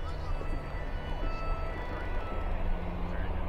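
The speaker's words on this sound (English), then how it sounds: "that's the ambulance" An ambulance siren in a video game, heard as a steady, droning wail under a low, constant rumble for the whole short stretch.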